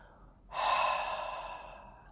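During a guided meditation sit, a single deep breath is sighed out through the mouth, a soft, airy exhale that swells quickly and fades over about a second and a half, heard up close with no talking.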